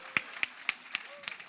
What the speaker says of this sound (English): Can we clap nicely?